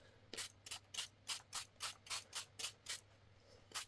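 Repeated short hissing bursts of a spray bottle misting water onto a Brusho watercolour painting, about a dozen quick close pumps in steady rhythm with no talk.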